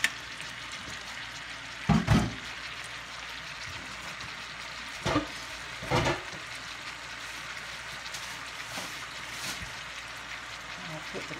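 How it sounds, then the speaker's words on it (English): Mussels sear in a hot pan for seafood rice, giving a steady sizzle broken by a few louder, crackling bursts. "I'll put the top on those and let those sear."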